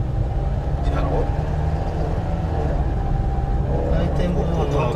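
Cabin noise inside a moving Honda Life JB5 kei car with a suspected abnormal noise from a rotating part, a steady low engine and road rumble with a faint periodic hum running throughout as people talk over it.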